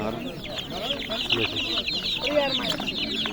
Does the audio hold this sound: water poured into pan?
no